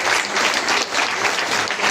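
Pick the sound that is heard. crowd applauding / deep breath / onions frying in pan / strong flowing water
crowd applauding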